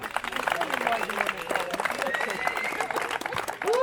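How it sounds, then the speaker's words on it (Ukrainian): A crowd claps at a volleyball award ceremony in Svaliava as certificates are handed out, steady applause mixed with voices and cheering throughout. "Оплески!"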